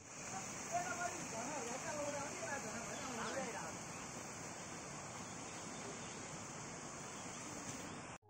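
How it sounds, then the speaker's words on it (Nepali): A waterfall at Godavari botanical garden pours as a steady, broad rushing wash, faint and continuous throughout, with a voice briefly audible early on. "झरनाको चिसो"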